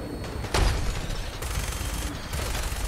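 Gunfire in the Fallout 4 VR game, a burst of booming shots with one loud blast followed by rumbling, crackling action and sustained noisy combat sound.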